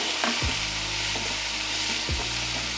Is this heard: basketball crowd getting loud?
no